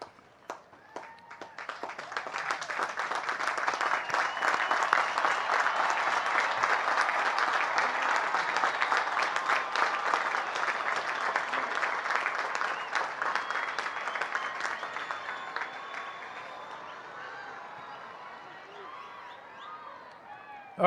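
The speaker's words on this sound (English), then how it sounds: "give a big round of applause to your families" West Point cadets break into a large round of applause for their families. The clapping swells over the first two seconds, holds dense and sustained for a long stretch, then gradually tapers off toward the end.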